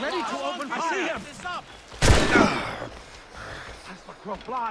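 Ship cannons firing in Assassin's Creed Rogue, one loud booming blast in the middle with rumbling decay, while game voices talk before and after it.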